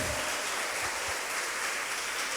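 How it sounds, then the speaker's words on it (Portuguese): A church congregation claps together during a worship meeting, a dense, continuous burst of applause filling the room. "Vamos aplaudir o Senhor."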